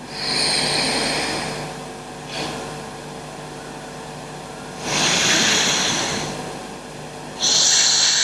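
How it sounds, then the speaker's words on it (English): Forceful exhalations through one nostril during alternate nostril breathing, three breath bursts with pauses between, fairly close and loud, the nasal airflow rushing and slightly snore-like, no talking. "I block my left nostril, breathe out through right."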